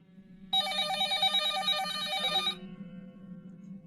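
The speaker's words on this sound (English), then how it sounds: "the phone on the counter rang" A telephone on a store counter rings in one sustained bright electronic burst of about two seconds, close and loud over a low background hum, then stops.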